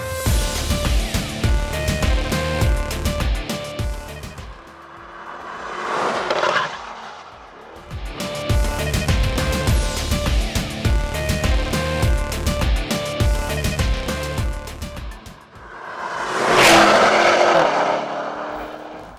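A Lamborghini Urus Performante with a 4-litre twin-turbo V8 pulling away and accelerating, its engine revving up through several gears with brief dips at the shifts and a loud surge near the end, heard close with no talking.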